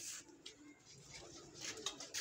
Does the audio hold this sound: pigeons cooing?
yes